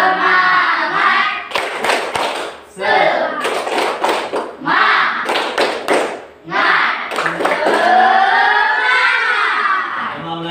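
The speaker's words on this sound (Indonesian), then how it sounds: "Tepuk semangat. Coba. 1, 2, 3. Tepuk semangat." Rhythmic group clapping routine (tepuk semangat) led in a classroom teaching practice session in Palembang, with bursts of claps in patterned groups alternating with loud call-and-response voices and children chanting throughout.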